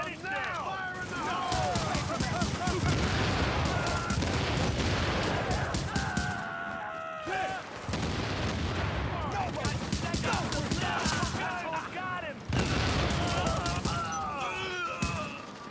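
Sustained turret gunfire in a sci-fi shooter game, dense rapid bursts filling most of the clip with brief pauses near seven and twelve seconds, loud and close, mixed with game effects.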